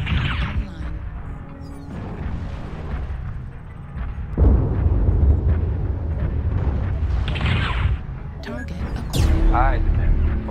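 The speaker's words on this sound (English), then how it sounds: "Airstrike online" Heavy airstrike explosions in Mechwarrior Online, with booming low blasts and rumbling crashes in several waves, loud and close, mixed with game effects and occasional voice chatter.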